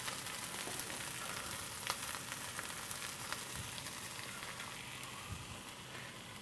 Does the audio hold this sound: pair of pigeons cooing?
no